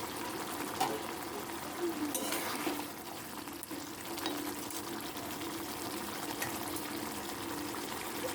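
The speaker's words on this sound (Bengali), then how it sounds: "এবার পটল আর আলু সেদ্ধ হওয়ার জন্য দিয়ে দিচ্ছি সামান্য পরিমাণ একটু জল" A small amount of water is poured into a pot of potatoes and pointed gourd, set to boil for a Bengali milk-based potol dish, giving a faint, steady gushing hiss that carries on quietly throughout.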